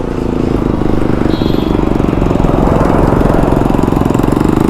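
A motorcycle engine revs during a ride, a steady, dense, loud drone that holds constant with a slight build toward the end, with no talk over it.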